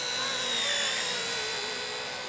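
An XK K124 scale EC-145 micro RC helicopter flies nearby, its motor and rotors giving a steady high-pitched whine with a faint pitch drift, loud and continuous, with no voices.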